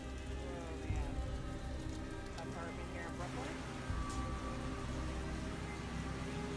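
Heavy rain pours steadily on surfaces in New York City during flooding, a constant dense hiss throughout, with a faint voice talking somewhere under it.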